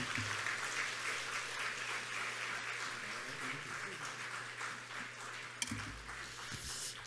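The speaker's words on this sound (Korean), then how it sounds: "우리 박수로 우리 목사님 환영하겠습니다" A church congregation at a Masan church revival meeting applauds to welcome the pastor, steady soft clapping from many hands heard from a distance at low level, with a faint hum beneath.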